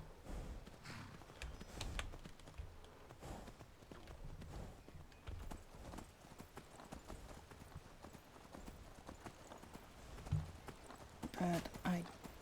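Rhythmic clip-clop of horse hooves trotting along in Skyrim, fairly close and steady throughout, with faint background sounds.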